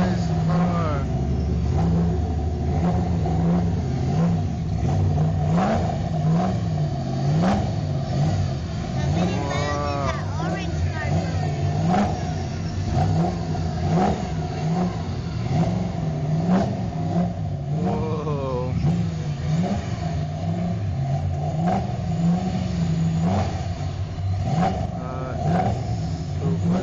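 A Shelby car's engine revs repeatedly in rising and falling bursts, loud and close, over a continuous idle; people talk throughout.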